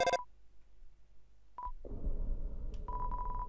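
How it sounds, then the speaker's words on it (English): A cell phone is dialed in the video game Undertale, with short electronic keypad tones followed by a burst of rapid repeated beeps over a low hum. "let me try giving this cell phone a call"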